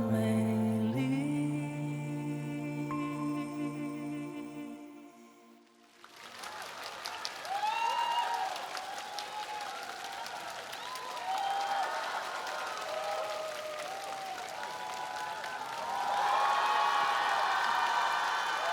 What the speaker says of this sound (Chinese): 我们用热情掌声送给张信哲，